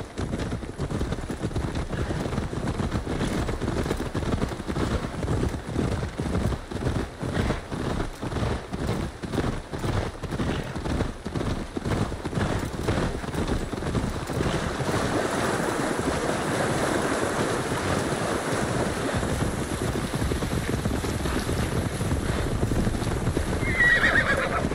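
Horse in Assassin's Creed Valhalla galloping in a fast, regular clip-clop of hooves for about fifteen seconds, with a neigh, then easing off as waves and water wash in, all close and fairly loud.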